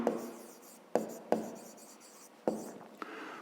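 A pen scratches on paper while a fifth-grade math exercise is being worked through: soft continuous scribbling with a few sharp taps as the pen touches down, close and fairly quiet, with no speech over it.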